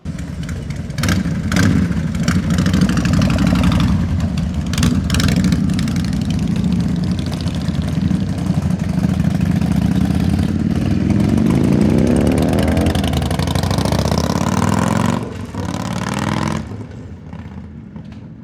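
Motorcycles idle and rumble loudly and steadily nearby, with engine revs rising as they pull away before the sound thins out near the end.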